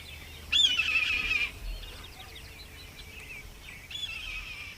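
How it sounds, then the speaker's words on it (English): Songbirds calling at dawn in open country, two short bright phrases a few seconds apart, moderately close over a quiet background. "Birds were singing their morning songs"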